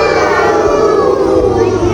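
A group of children imitate a cow's moo in a loud, sustained chorus, their drawn-out voices overlapping in a busy indoor space.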